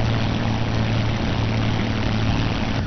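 A P-51D Mustang propeller aircraft in a DCS flight simulator comes in to land, its piston engine giving a loud, steady droning hum with a throbbing low rumble that holds constant throughout.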